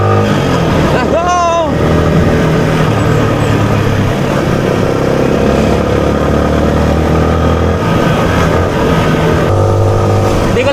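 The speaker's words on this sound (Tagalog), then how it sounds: "Sarap i-drive ng motor" A motorcycle engine hums steadily while riding on the road, a continuous loud drone that rises slightly in pitch as it revs, with a brief voice or tone cutting in near the start.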